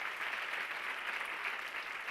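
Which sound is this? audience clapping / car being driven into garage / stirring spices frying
audience clapping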